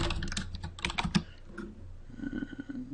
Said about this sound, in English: I'm gonna type up threshold.